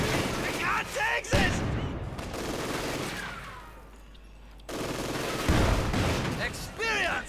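Machine gun fire from the strategy game Company of Heroes 2 crackles in sharp bursts, with dense volleys at the start and end and a quieter lull in between.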